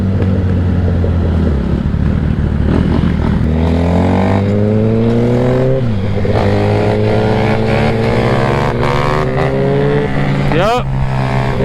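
Dirt bike engine revving hard in repeated rising bursts during a wheelie attempt, close and loud, with pitch climbing and dropping as the throttle opens and cuts back, one final sharp rev near the end.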